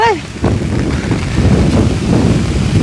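Steady, loud wind buffeting a microphone in a forest, a continuous low roar with gusty swells throughout.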